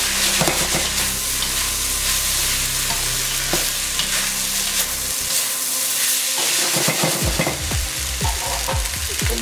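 White rice sautés in a pot as a spoon stirs it, giving a loud, continuous sizzle marked by repeated scraping strokes that grow busier toward the end.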